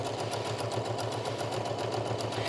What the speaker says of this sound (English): I'm gonna back tack to secure that.